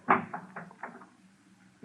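A door on an old radio drama set swings open with a quick wooden knock and creak followed by softer rattling bumps, close and brief.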